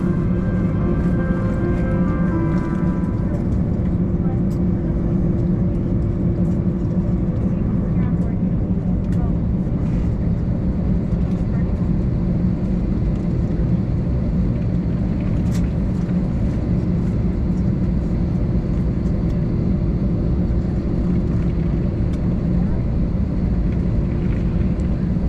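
A Delta airliner cabin before takeoff on a flight from Austin to Los Angeles fills with a steady, loud low engine and air-system drone that runs unbroken from start to finish, with faint announcement-like sounds above it.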